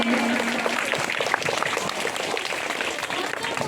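A school assembly crowd at Zubair Oriental School's August 15 program claps loudly to welcome guests, a broad wash of applause with faint voices mixed in.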